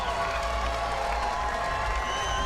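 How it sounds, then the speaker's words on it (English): Crowd cheering and clapping at a women's skateboarding street league world championship final, a steady dense roar of applause and shouts that holds loud throughout. "The crowd is going bonkers here."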